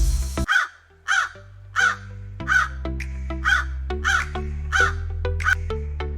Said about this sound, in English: that's the reason why crow always caws the loud